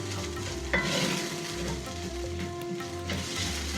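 Onions sauté in a pan for Kerala-style beef cutlet, a continuous close sizzle with spatula stirring and scraping throughout, no voices.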